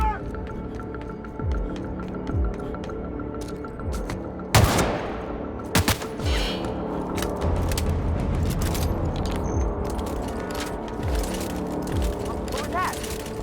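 Rapid gunfire bursts and single shots crackle through a firefight in the video game The Outer Worlds, loud and dense across the scene with booms and shouted voices over the shooting.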